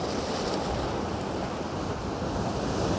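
Waves wash steadily against rocks in a bay between two capes, a continuous broad surf roar with some wind noise on the microphone and no voices.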